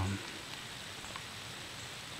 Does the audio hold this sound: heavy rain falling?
yes